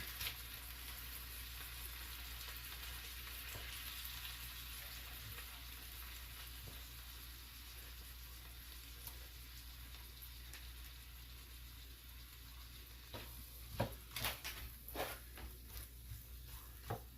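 Beef and broccoli stir-fry sizzling in a pan, a steady bright crackle and hiss throughout, joined near the end by a few sharp clatters and scrapes of stirring.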